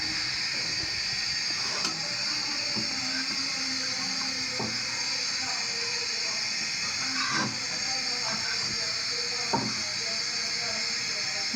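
Fish going into a pan of curry over a high gas flame, giving a steady, close hiss of sizzling that holds evenly throughout with a few faint knocks and no talking.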